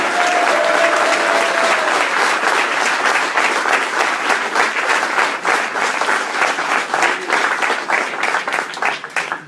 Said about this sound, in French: Nos deux candidats, que vous pouvez applaudir,